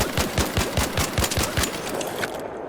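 Venator gun in ARC Raiders fired at a training dummy: a rapid run of about eight sharp, loud shots in steady rhythm, then a brief fading tail.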